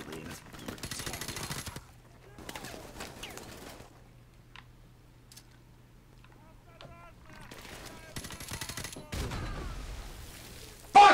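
Bursts of gunfire from the Modern Warfare Remastered video game, heard in two loud clusters near the start and end with quieter scattered shots between, and a player's voice talking over parts of it.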